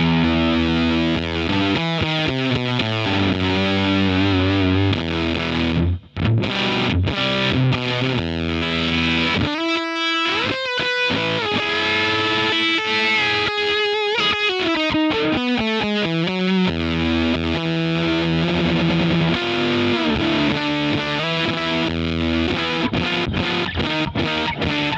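Electric guitar fed through a buffer into a vintage germanium Fuzz Face pedal, producing a thick, saturated fuzz tone with sustained notes and riffs, loud and continuous with no talking.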